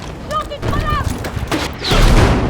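Gunfire in the Warzone battle royale game, with bursts of shots and a deep boom toward the end, heard under someone talking and game effects.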